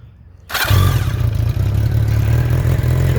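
A 1984 Honda CB700S Nighthawk motorcycle engine cranks over with the choke partly on and catches about half a second in, then settles into a loud, steady, throbbing idle close by.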